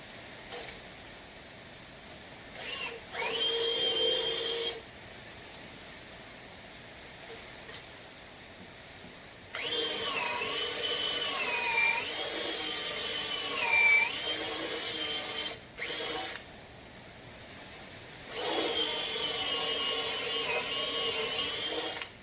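A drill boring through a wooden fence post being made into a rustic LED uplighter lamp, heard in several loud sustained bursts of whirring separated by pauses, with a longer run in the middle.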